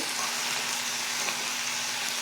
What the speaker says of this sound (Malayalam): കടുകും മുളകും കറിവേപ്പിലൊക്കെ ഒന്ന് എണ്ണയിലിട്ട് കടുക് പൊട്ടിച്ചിട്ട്